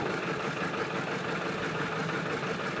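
A tractor engine idles close by, a steady, even broadband rumble with no change in pitch and no voices over it.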